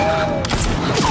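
Sniper rifle gunfire in an action film scene, heard as one sharp, loud crack partway through, set against a dense, continuous soundtrack.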